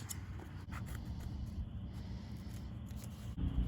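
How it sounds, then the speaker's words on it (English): Scissors cut through foam stick-on padding for a Hawk 250 air filter with a soft, close, continuous crunching snip and a louder final cut. "cut this out"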